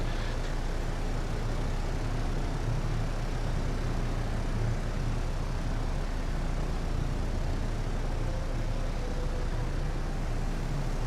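Steady droning of propeller aircraft engines as Wildcat fighters and torpedo bombers fly in a Pacific naval battle game set in the Marshall Islands, a continuous broadband roar with a low hum, no talking.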